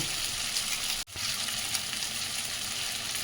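A hilsa fish head, seasoned with salt and turmeric, fries in oil in a pan with a close, steady crackling sizzle, interrupted by one brief dip about a second in.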